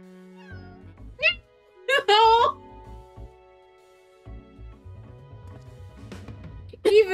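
A cat meows in Final Fantasy 14, giving several short, clear, rising meows spaced through the clip over quiet game sounds and voiced dialogue.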